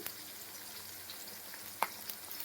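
Halved green chilies with salt fry quietly in a pan, a soft continuous sizzle with one brief clink of a spoon near the end.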